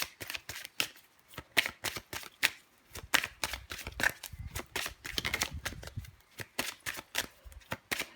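Tarot cards shuffled and dealt at close range, a quick series of crisp riffling slaps and flicks, some overlapping in bursts, quiet overall with a faint voice now and then.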